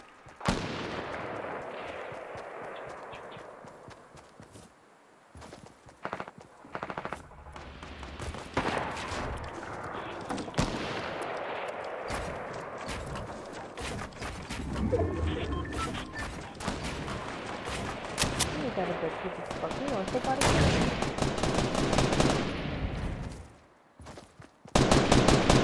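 Video game gunfire crackling through a long stretch, bursts of automatic shots and scattered single blasts at moderate volume, with gaps and louder volleys near the end.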